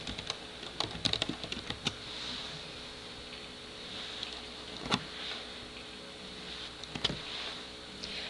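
Typing on a computer keyboard, with a quick burst of close clicking keystrokes, then scattered single taps and a few more short clusters over a faint steady room hum.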